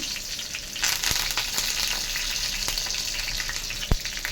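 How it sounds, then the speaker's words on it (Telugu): Mustard seeds, cumin and curry leaves fry in hot oil for a tempering, a close, steady sizzle with a few sharp pops and crackles breaking through, and no one speaking. "అలాగే ఆవాలు, జీలకర్ర వేసాను ఫ్రెండ్స్. అవి అయితే వేగుతున్నాయి."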